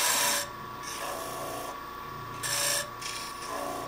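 Parting tool cutting a tenon on a wooden handle turning on a lathe, a close rasping scrape that comes in repeated pulses, with no voices.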